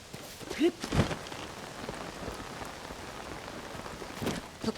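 Steady rain patters on surfaces in the video game Zelda: Tears of the Kingdom, with a few louder drops and soft thumps scattered through it.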